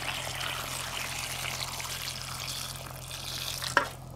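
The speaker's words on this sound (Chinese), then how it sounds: "最后加入开水" Boiling water poured into a pan of fried carp pieces and tofu braising with soy sauce, a soft continuous pouring hiss and sizzle at close range, ending with a small clink.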